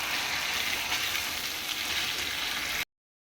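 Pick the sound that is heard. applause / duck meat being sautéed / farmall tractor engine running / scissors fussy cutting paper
duck meat being sautéed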